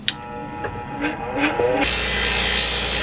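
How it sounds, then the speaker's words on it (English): A power grinder is switched on against a wooden birdhouse piece to even its edge. A few light knocks come first, then a loud steady whine and grinding that holds close up. "I'm gonna grind it so it can be even alongside with the other half of this"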